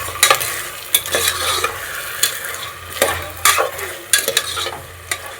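Avarekai sambar ingredients are mixed in a pan with curry leaves, oil and water. A spatula scrapes and knocks against the metal in repeated sharp strokes over a soft, low sizzle, close and clear.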